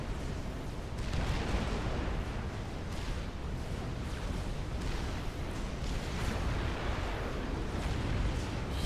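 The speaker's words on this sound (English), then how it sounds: "Huge damage from those Oblivion turrets, their AoE." Oblivion turrets in the Supreme Commander video game firing explosive area-damage shells, heard as a steady, rumbling barrage of booming blasts that blur into one continuous roar.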